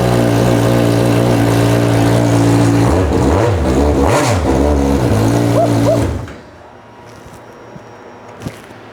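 A loud, unsilenced Suzuki Hayabusa engine roars and revs hard for several seconds, its pitch swelling and dipping, then cuts off abruptly into near silence with faint clicks.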